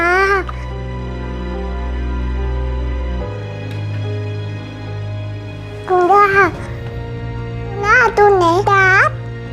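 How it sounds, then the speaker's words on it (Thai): A young child babbles in short bursts of high, pitched vocal sounds, separated by pauses, over a steady low background hum. "เสียงเด็กที่ไหนน่ะ"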